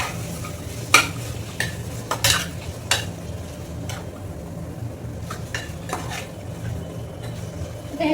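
Washed pavta beans tossed in a pan, with a utensil scraping and clinking against metal in sharp intermittent strokes over a low steady background hum; soft sizzle underneath, no talking.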